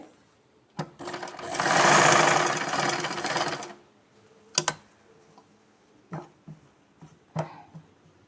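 A sewing machine stitches a folded seam on a baby frock, running in one steady whirring burst of about three seconds, then several short clattering bursts, loud and close.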